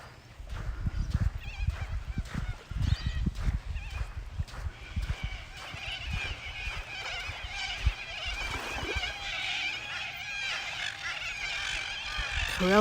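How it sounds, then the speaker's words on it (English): Corellas and seagulls calling at a bay at sunrise, a dense, raucous chorus of harsh shrieks and squawks building steadily, with some low rumbling knocks early on. "Corellas and seagulls."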